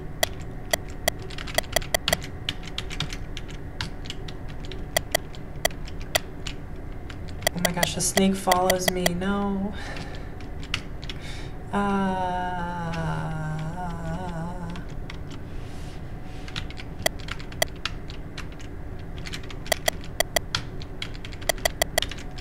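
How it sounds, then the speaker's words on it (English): Computer keyboard keys are pressed in sharp scattered clicks and bursts while a game plays its own chiming sound effects, and a person talks over it. "I should be using the keyboard."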